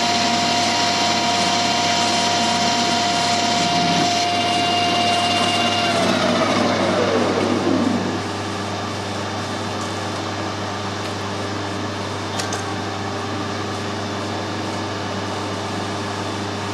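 A milling machine takes a half-mil cut on a square of a motorbike side stand, a steady high machine whine with a pitch that drops and settles into a lower constant hum partway through, with no talk.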